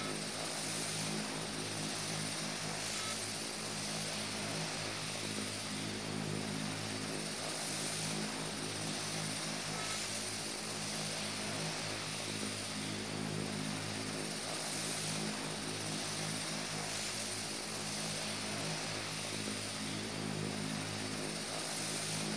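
Propeller aircraft engines throttled back in the Prepar3D v4 flight simulator game, a steady, unbroken droning hum that holds at an even level throughout.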